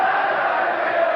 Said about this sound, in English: Crowd in the background exhorting Jean-Claude Bouttier on.